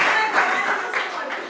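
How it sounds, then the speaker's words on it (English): A brief burst of audience applause at an awards party fills the room with close, even clapping that tapers off after a second and a half. "So, an applause for Alberto, who is not here."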